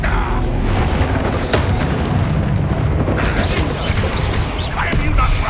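Confringo blasting spells in Hogwarts Legacy, rendered as loud booming bursts and crashing impacts amid dense combat noise, with brief spoken spell calls mixed in.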